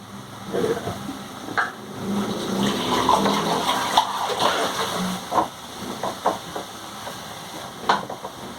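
Water runs steadily while moringa flowers are rinsed and scrubbed in a kitchen, with a few soft clinks and knocks close by.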